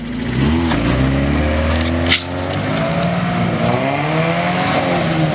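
A Mazda NA Miata engine revs hard and close, its pitch climbing and falling in loud swells, with a brief sharp break near the middle.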